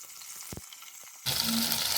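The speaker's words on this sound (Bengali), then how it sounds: "খুব ভালোভাবে ফ্রাই করে নিব" Cauliflower florets dropped into hot oil in a pan; a couple of brief clatters give way to a sudden, loud, steady sizzle of frying that fills the second half, with no talk.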